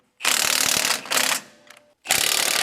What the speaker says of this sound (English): let's go ahead and tighten it up with our 1/2-inch impact and our wrench